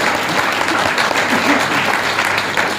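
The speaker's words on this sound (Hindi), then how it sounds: "तो जोरदार ताली करोगे।" A crowd at a Delhi political rally claps loudly on cue, a thick wash of many hands with faint voices and cheers mixed in, steady throughout.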